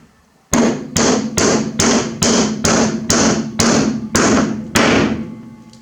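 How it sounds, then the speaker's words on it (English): Ten sharp hammer blows driving nails into wood ring out at a steady, even pace, each a loud strike with a short decaying ring, close by and alone. "it's getting nailed and glued back into place."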